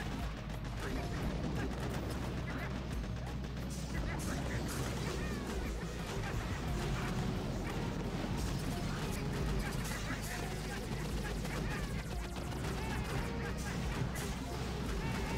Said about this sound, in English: I hate the sound of the shock blaster firing.